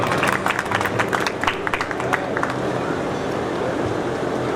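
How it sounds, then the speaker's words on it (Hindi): An audience claps and applauds at a district community convention of the Medh Swarnkar Samaj in Nagaur, a dense, steady patter of many hands sustained throughout with crowd murmur beneath. "जोरदार ताली बजाओ सब।"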